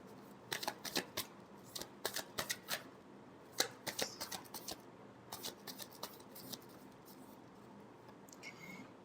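Tarot cards being shuffled in repeated quick riffling bursts, crisp papery flutters in clusters across the clip, close and moderately quiet with no talking.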